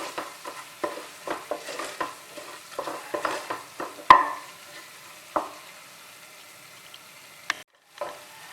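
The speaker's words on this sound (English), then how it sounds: "Just keep on stirring it with low to medium flame" Mutton and masala frying in a pan over a low-to-medium flame, stirred with a spoon in repeated scraping strokes over a soft sizzle, with a sharp clank midway and a brief pause near the end.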